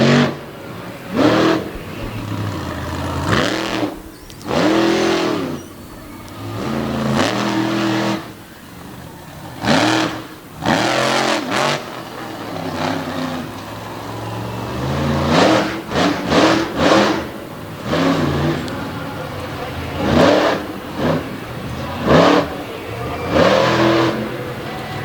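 A race truck with a broken right rear axle revs and accelerates hard on a wet banked oval in Selinsgrove, its engine surging loudly in repeated roaring bursts separated by brief lulls.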